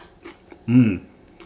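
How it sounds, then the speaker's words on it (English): A single close, loud crunch of a bite into crispy air-fried Taiwanese popcorn chicken, lasting about a third of a second, with faint mouth and handling sounds around it. "That crunch is what I'm after."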